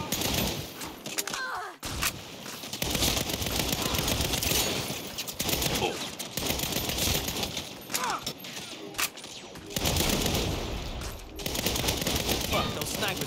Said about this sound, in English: those snipers are pinning us down